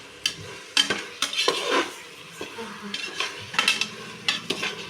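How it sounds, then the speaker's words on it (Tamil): A spoon stirs vegetables in a metal pot while cooking veg biryani, giving irregular scraping clinks and knocks against the pot over a light sizzle, close and fairly loud with no voice. "இப்போ நல்லா கிண்டி விட்டுக்கலாம்"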